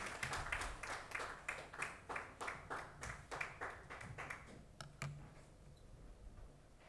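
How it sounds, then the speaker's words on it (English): An audience applauds an award winner at a conference awards ceremony in Delhi, a faint, distant, steady patter of hand claps that gradually thins out. "Come on, everyone, give a big round of applause for Mr."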